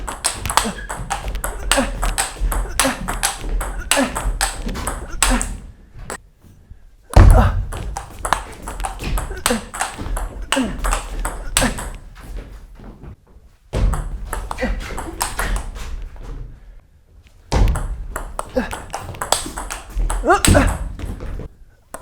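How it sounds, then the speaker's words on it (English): Table tennis rally played with a STIGA Perform ABS plastic ball: repeated sharp pings of ball on bat and table in quick, steady rhythm, broken by short pauses between points, with players' voices calling out over the play. "we're going to play some match play points using the STIGA Perform"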